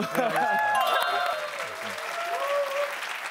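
Studio audience clapping on a Korean variety show, a fairly loud burst of applause layered with cheerful voices and chatter throughout.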